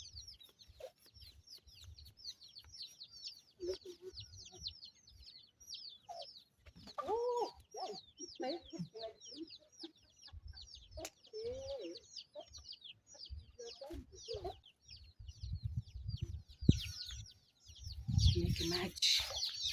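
Hens cluck and call repeatedly in a village kitchen, near and fairly faint, with intermittent human voices and handling noises around them.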